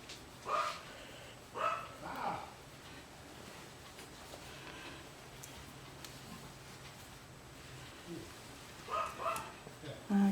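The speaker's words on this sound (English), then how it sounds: "I guess you can hear my dog barking." A dog barks indoors from a distance, giving a few faint, short, scattered woofs between quiet gaps in an otherwise hushed room.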